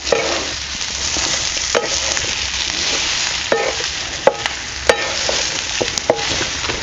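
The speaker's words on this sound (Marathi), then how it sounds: "मसाला चांगलंसं परतून घ्यायचं" Black masala being sautéed in a pan while being stirred for a vegetable dish, giving a steady soft sizzle with a few sharp scrape and tap sounds from the spoon against the pan.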